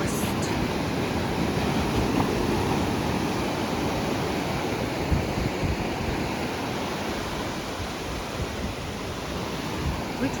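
Ocean surf rolls onto a beach in Goa at dawn, a steady broadband wash of waves with some wind buffeting the microphone and no distinct voices.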